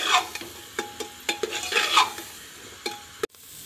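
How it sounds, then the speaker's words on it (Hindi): Chickpea curry with potatoes and spices fries in a pan, with a spoon stirring and scraping in a quick series of sharp clinks over a soft, steady sizzle. "दो मिनट मसाले के साथ सबको भून लेंगे।"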